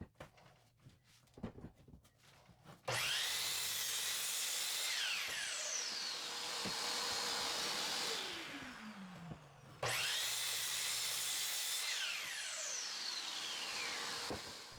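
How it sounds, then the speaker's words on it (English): A miter saw squares off pallet wood in two cuts, each a loud motor whine spinning up, dipping as the blade bites through the board, then winding down, after some brief quiet handling noises. "Then on the miter saw, I squared it off."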